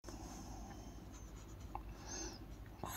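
Pen writing Pitman shorthand figures on paper, a close, continuous soft scratching with a few light taps, quiet and alone with no voice.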